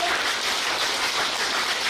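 Audience clapping at a school classroom commissioning ceremony in Kenya, a dense, continuous wash of applause throughout, fairly loud and even, with no distinct voices.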